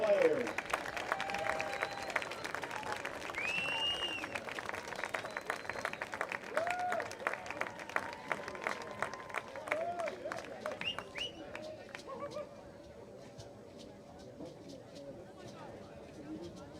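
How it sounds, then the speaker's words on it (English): Crowd applause at a high school football game, Wayne Hills vs Hackensack, a steady wash of clapping from the stands that fades near the end, with talk and cheering mixed in over it. "Let us have a standing round of applause for our senior cheerleaders and football players."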